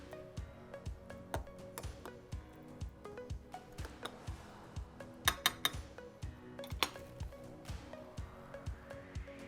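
Roasted tomatillo salsa with onions being stirred in a bowl: a close, quiet, regular series of clinks and scrapes from a utensil against the dish, with no speech.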